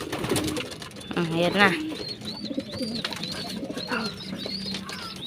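Racing pigeons cooing close by, a cluster of throaty coos standing out midway, with soft bird calls around and someone speaking briefly.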